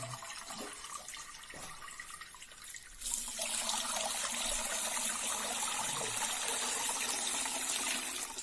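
Grape must for homemade wine being poured from a tub into a barrel for fermentation, a soft trickle swelling into a steady, loud rushing pour that continues to the end, close by with no talk.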